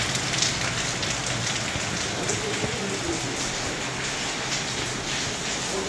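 Heavy rain pours steadily in Ooty, a dense, continuous hiss of drops striking surfaces that stays loud and even throughout, with no voices.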